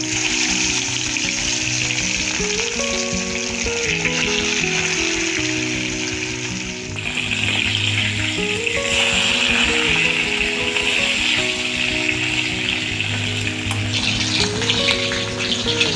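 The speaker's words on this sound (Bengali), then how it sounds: "তেল গরম হয়ে গেছে, মাছটা ভেজে নিই।" Fish fries in hot oil for a spiced potato and cauliflower fish curry, giving a steady, close, continuous sizzle that runs the whole time, with a slight lift in intensity partway through, over a faint tonal background.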